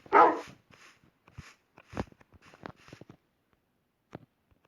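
A small dog in the video game Minecraft barks and yips in short bursts, one loud yelp at the start followed by scattered softer barks and a final single bark.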